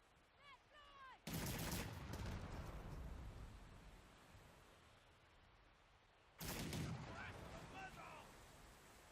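Ship cannons firing in the naval battle game Man O'War: Corsair, two loud booming volleys several seconds apart, each rumbling and decaying, with faint speech before them.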